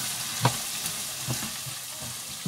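Sliced carrots frying in hot groundnut oil in a pan, a steady bright sizzle with a few scraping knocks from a stirring utensil, close and alone with no voices.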